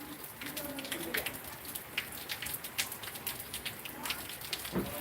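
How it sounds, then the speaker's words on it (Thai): Steady rain falling at a Thai school on a grey morning, a continuous soft hiss with scattered close drips and patters on surfaces, gentle and even throughout with no talking. "เนื่องจากฝนตกลงมาเรื่อยๆครับ"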